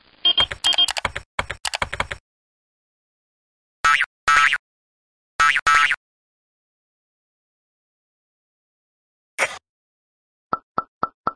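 Computer keyboard typing in quick bursts of key clicks, close and clear, separated by pauses, with a few isolated taps near the end and no talk.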